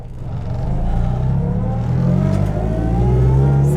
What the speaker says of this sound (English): this car is very loud, and the transmission does not help.